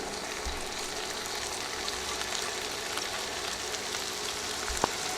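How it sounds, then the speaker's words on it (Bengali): Soft, even sizzling of about half a kilo of mixed vegetables frying in a pan, a low continuous hiss with a couple of faint knocks near the end. "এখন সবগুলো সবজি প্যানে দিয়ে দিচ্ছি"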